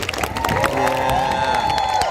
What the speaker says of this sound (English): Let's give Julian a giant round of applause, everybody.